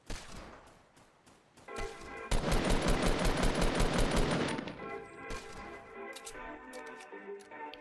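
Automatic weapon fire in a Fortnite squad match: after scattered shots, a loud, sustained rapid burst of gunfire rattles for about two seconds, then fades into sparser shots, with little talk.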